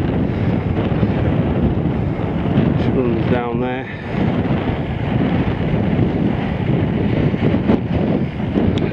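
Loud, steady gusts of wind roar across a microphone high on Coniston Old Man, with someone speaking briefly partway through and the buffeting continuing around his voice.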